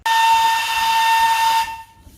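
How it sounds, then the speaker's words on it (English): An old steam engine in a museum lets out a loud, steady whistle mixed with hissing steam, held for about a second and a half before cutting off, with no talking. "Oh yeah, steam engine!"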